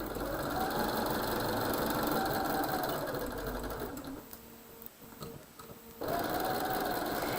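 A sewing machine stitches a quilt seam in steady, close bursts of running, with a short pause partway through before the stitching resumes.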